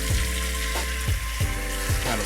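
Tap water pours into a bowl of cleaned beans set to soak, a loud steady rush with a few clunks and shifts as the bowl fills.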